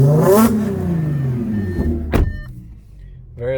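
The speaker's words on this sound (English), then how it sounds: "Let me hit you with some rev time real quick." A 2013 Audi S4 with an APR dual pulley supercharger upgrade and catless downpipes revs up loudly nearby, the engine note rising and falling, then a sharp pop and a brief lull before it climbs again.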